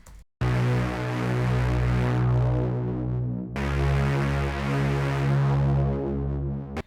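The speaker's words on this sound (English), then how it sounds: "the only thing I'm adding here is this brass bass which sounds like this." A brass bass synth patch built in Serum from a basic initial patch plays sustained low notes with a soft release, in a slow pop style. Two long held phrases sound alone, steady and full, with a brief gap between them.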